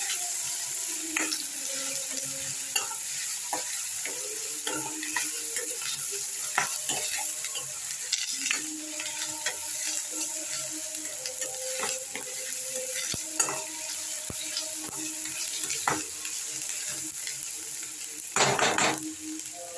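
Tomato and curry leaves frying in a pan give a steady sizzle, with a utensil repeatedly scraping and clinking against the pan as it stirs, and one louder burst near the end.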